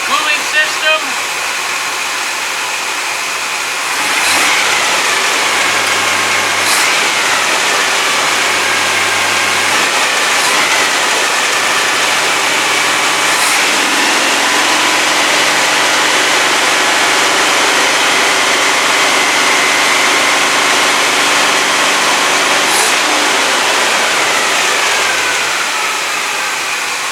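A freshly installed L79 engine in a 1965 Corvette starting for the first time and then holding a loud, steady fast idle close by, with brief revving and voices faintly underneath.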